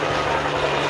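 A helicopter approaches an outdoor car gathering, a steady, loud broadband rotor and engine drone with a low hum underneath.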